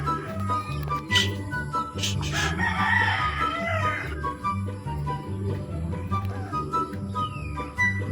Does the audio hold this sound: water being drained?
no